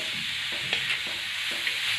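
A dry radish vegetable dish cooks in an iron pan, with a continuous hiss of sizzling and a few soft scrapes as it is stirred, close and steady, with no talk.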